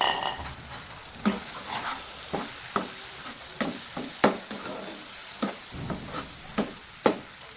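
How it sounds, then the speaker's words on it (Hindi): Tomatoes fry in ghee and oil with a steady bright sizzle, while a spoon scrapes and knocks against the pan at irregular intervals as they are stirred. "टमाटर को हम इस तरीके से थोड़ा भूनेंगे"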